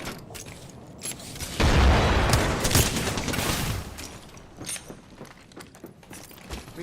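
A frag grenade goes off in an Apex Legends ranked match, a loud broad blast that swells and rumbles for about two seconds, then fades into scattered gunfire and game noise.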